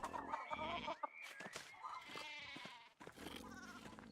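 Goats bleat repeatedly in the video game Pentiment, several wavering cries close together, some overlapping, over a busy farmyard background.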